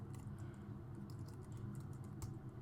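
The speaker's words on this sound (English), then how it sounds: "my typing's off" Quiet computer keyboard typing comes through in irregular clusters of light clicks over a low constant hum, faint and close.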